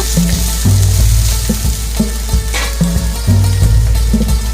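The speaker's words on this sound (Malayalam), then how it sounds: "മുളകും വെള്ളുള്ളിയൊന്നും അധികം വഴറ്റേണ്ട ആവശ്യമില്ല" Chili and garlic sauté in hot oil for a prawn curry, a steady close sizzle broken by rhythmic stirring and scraping in the pan, with no voices.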